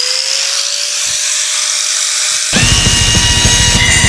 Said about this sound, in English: it's going to be given the angle grinder treatment.